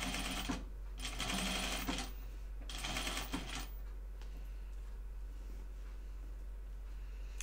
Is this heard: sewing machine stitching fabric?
yes